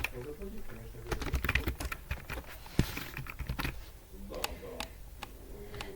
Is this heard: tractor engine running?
no